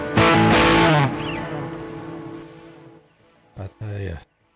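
An electric guitar with distorted, AC/DC-style crunch, heavy delay and reverb plays a short riff of sustained chords that ring out and decay, followed by two brief stabbed chords near the end.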